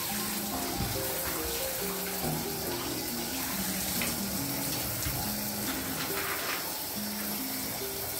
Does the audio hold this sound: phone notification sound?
no